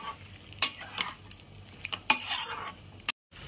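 Prawns stirred with spices in a pan over a medium gas flame, with a few sharp metal scrapes and clinks of the spatula over a soft sizzle, ending abruptly.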